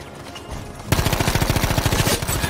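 An M2 Carbine fires in Battlefield 5 as a rapid, loud burst of evenly spaced shots, starting abruptly and continuing for nearly two seconds.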